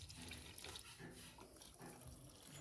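Water poured into grow bags filled with soil: a continuous faint splashing and gurgling stream with no breaks, quiet and fairly close.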